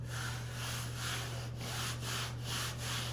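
Steady, gritty scratching of sandpaper rubbed back and forth over the rough old surface of a 1966 Mustang Fastback hood in repeated strokes, close and continuous, with a low hum underneath.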